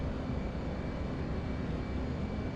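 Aircraft engine in a flight combat simulator game rising as the throttle is pushed up, a steady low droning roar that holds throughout at moderate level with no voices.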